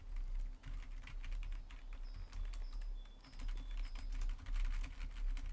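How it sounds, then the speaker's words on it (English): Rapid clatter of computer keyboard keys pressed in quick succession, close and fairly quiet, over a low hum, with a few faint synthetic chirps from a Stardew Valley horror-mod game in the background. "I'm gonna press every single button on my keyboard and hope that it does something."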